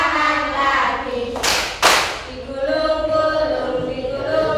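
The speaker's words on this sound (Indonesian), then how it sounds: "tepuk tangan lagi." Third-grade class clapping hands, two sharp bursts of claps between children singing and chanting in a classroom.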